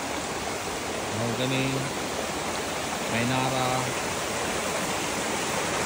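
Steady rushing of a river stream flowing through a mahogany forest fills the scene from start to finish, with a voice speaking briefly twice over it.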